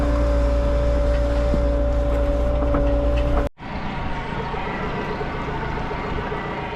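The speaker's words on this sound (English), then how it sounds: "Listen to that Yamaha purr." A steady mechanical hum of an idling Yamaha outboard engine; a low drone with tonal lines gives way abruptly to a rougher, broadband running rumble.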